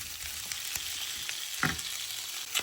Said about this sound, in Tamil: ஒரு நிமிஷம் மிக்ஸ் பண்ணினா ஓகே.